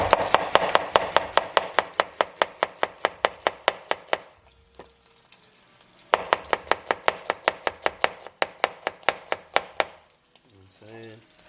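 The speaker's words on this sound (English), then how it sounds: "let's julienne these onions real quick" A knife julienning onions on a cutting board, fast steady chopping taps in two long runs separated by a brief pause, loud and close, with a short murmur near the end.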